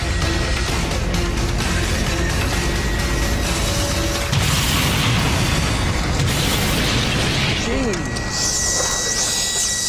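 A Volvo 940 estate and a Renault Modus collide in an outdoor crash test. A sudden heavy impact cuts through constant loud, noisy background, followed by crunching and rattling debris.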